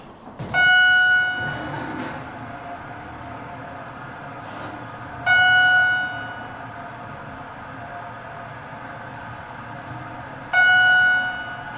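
A Schindler MT hydraulic elevator motor runs inside a Nordstrom store at Westfarms Mall with a steady, low mechanical hum. Three bright, ringing chime tones sound over it at regular intervals.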